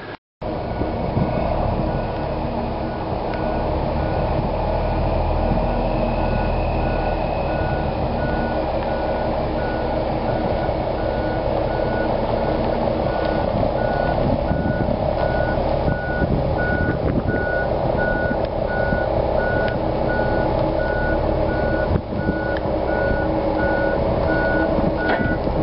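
A heavy truck reverses beneath a Drake heavy-haulage float, its steady backup alarm beeping in a regular rhythm over a continuous diesel engine rumble, loud and close throughout with no talking.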